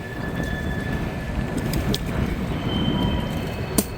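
Norfolk Southern freight train rolling past on rails in Northern Kentucky, a steady broadband rumble with faint high wheel squeal lines and a brief clank near the end, heard alone without talk.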